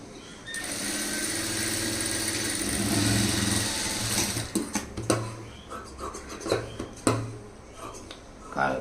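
A sewing machine stitching a blouse lining, a steady mechanical whir that breaks into short bursts and stops, with someone talking over it.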